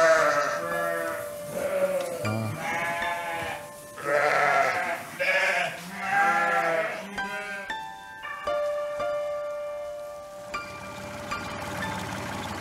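Ewes bleat on a farm in a run of loud, close, wavering calls that overlap at first and then thin to a few sparse bleats, with a single brief spoken word near the end.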